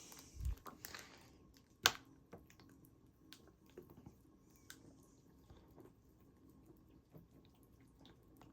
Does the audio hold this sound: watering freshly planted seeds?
yes